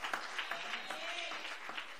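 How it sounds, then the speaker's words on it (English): A church congregation claps in praise to the Lord, a steady wash of hand clapping with several sharper claps standing out, fairly faint and without talk. "can we give the Lord a hand clap of praise"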